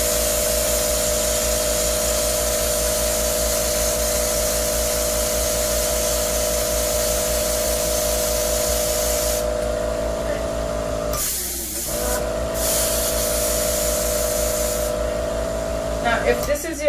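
Continuous close hiss of an airbrush spraying food colour onto cake pops, steady and loud, broken by a short pause midway before resuming.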